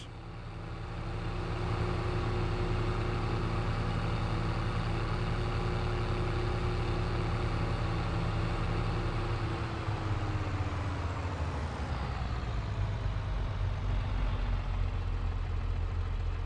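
A tractor engine idles steadily in a realistic farming simulator game, a low constant rumble throughout with a slight shift in pitch partway through.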